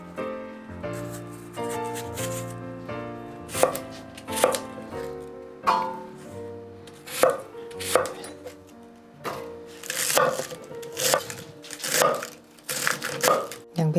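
A knife chops hard carrots into small pieces on a cutting board, close crisp chops that start sparse and irregular and then speed into quick rhythmic runs.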